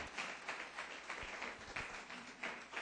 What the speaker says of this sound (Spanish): ¿Qué tal si aplaudes al Señor